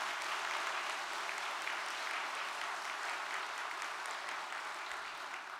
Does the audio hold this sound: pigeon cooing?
no